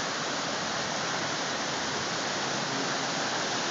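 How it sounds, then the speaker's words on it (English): Loud, constant roar of rushing water fills the clip, a dense unbroken wash of sound close by with no other noises. "See that rushing water?"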